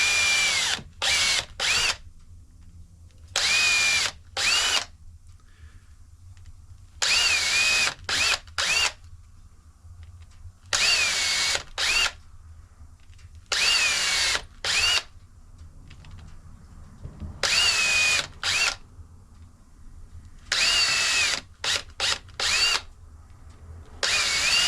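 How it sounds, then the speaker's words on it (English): A power drill bores holes through wood clamped over a sacrificial board while building a flintlock speed loader, in repeated short whirring bursts separated by pauses. "Let me get those drilled and I'll bring you right back."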